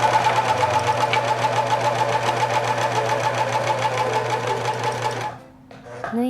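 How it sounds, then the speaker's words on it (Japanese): An overlock serger stitches fabric with a fast, steady mechanical chatter close by, stopping abruptly near the end, followed by faint handling sounds. "ロックミシンはこうして初めに糸を出してから縫うそう。"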